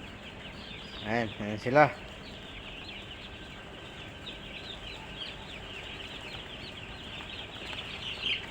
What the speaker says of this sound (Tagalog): Yan ang sisiw namin dito guys, mga maliit pa.